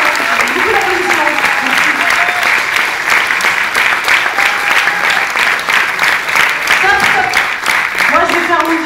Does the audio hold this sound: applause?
yes